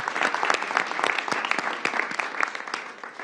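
A press-event audience applauds a charter school student with brisk, close hand claps and distinct individual slaps, holding fairly even before tapering slightly at the end.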